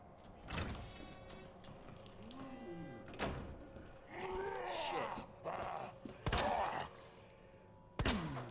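Gunfire in the Resident Evil 2 video game, several sharp shots spaced a few seconds apart among other game noises and doors, with a voice talking over parts of it.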